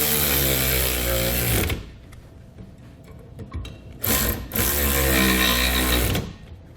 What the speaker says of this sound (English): Then we can go back and tighten these down with a 7/32 Allen and a 9/16 wrench.